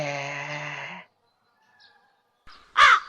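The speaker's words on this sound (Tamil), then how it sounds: "கருமம் புடிச்ச காக்கா" A crow caws once, loud and close and harsh, near the end, after a humming tone and a stretch of near silence.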